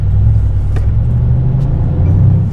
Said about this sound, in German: Der macht halt dieses richtig geile Knattern